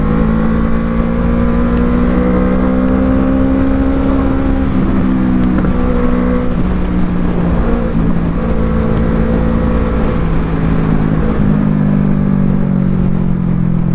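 A Kawasaki Z650 motorcycle on a test ride holds a loud, steady engine drone throughout, with smooth pitch shifts as it pulls under load, close to the microphone and with no talking.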